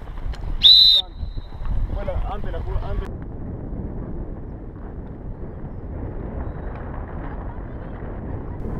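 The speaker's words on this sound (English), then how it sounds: "in neutral play, I blow the whistle" One short, shrill polo referee's whistle blast sounds near the start, followed by muffled voices and wind rumbling against the microphone.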